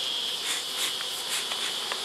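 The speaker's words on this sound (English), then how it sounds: "there's a few bees in there" A steady, close buzz of bees inside a hive, a high sustained drone like bees humming together in an enclosed space, with slight swells in intensity.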